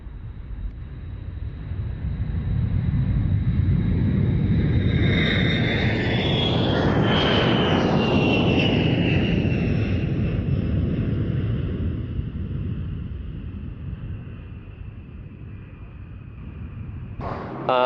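A B-52 heavy bomber passes at an air show, its jet engines swelling into a broad, loud roar with a descending whine that peaks mid-pass and then fades away into the distance.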